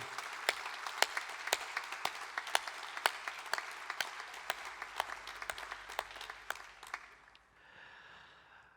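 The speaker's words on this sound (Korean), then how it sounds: "우리와 같은 박수로 그분들을 한번 환영하도록 하겠습니다" A church congregation at an evening revival service claps in welcome for missionaries, a steady rhythmic unison applause of sharp beats that fades out near the end.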